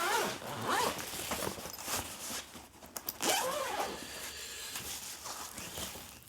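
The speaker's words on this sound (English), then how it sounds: "Here's the zipper." A zipper on a Fender deluxe gig bag is pulled open in several quick rasping strokes with brief pauses between them, heard close up with no talk.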